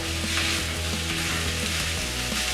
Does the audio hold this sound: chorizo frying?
yes